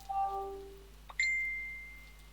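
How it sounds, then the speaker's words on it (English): A small bell rings twice: a lower tone that fades, then a higher, brighter ding that decays slowly, faint and alone against a quiet hum. "I heard a bell"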